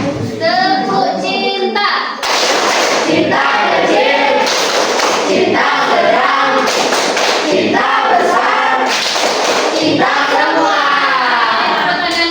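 A school classroom performs the tepuk cinta clapping chant, with children chanting in unison and clapping in a quick, lively rhythm. The claps and voices are loud and close and fill the room for the whole stretch.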